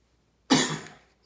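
A single sharp cough bursts out close to the microphone and fades within about half a second, alone against silence, breaking up a commentary on an Axis and Allies board game turn.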